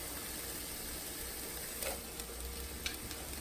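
Pasilla pepper and medium onion sizzling in a warm oiled pan, a steady soft hiss with a few light stirring clicks, close and quiet.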